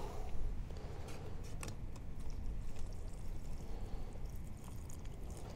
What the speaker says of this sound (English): Go ahead and add the water and give it a good mix.